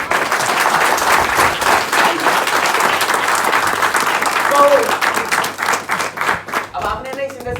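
A seminar audience applauds at a business motivational talk; the clapping stays dense and loud for about six seconds, then thins into a few scattered claps near the end.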